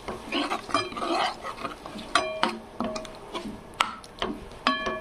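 A spoon stirs thick chicken gravy in a pan, soft wet squelches and scrapes with sharp metallic taps against the pan's rim at irregular intervals, close and moderate.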